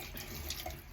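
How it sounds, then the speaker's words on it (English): Warm water runs steadily from a hot tap into a sink, a continuous close hiss and splash with no other sounds. "I can feel that the hot tap is starting to heat up now"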